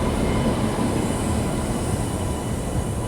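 A passenger train pulling into a railway station produces a loud, steady rolling rumble with a hissing wash of noise, continuing evenly throughout without speech.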